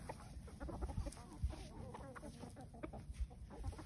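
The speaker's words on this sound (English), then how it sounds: "We have chickens and ducks." Chickens cluck and murmur softly nearby in a quiet, busy flock on a farm with ducks, with low rustling and faint background noise.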